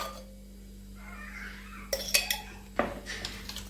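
A metal utensil spreads ghee across a hot griddle for a pav omelette, producing a few light clinks and scrapes over a quiet, steady hum.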